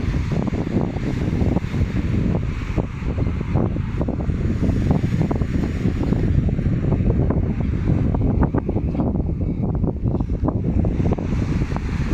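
Strong wind at a beach roars steadily across the microphone, with a dull rush like surf underneath, loud and unbroken throughout.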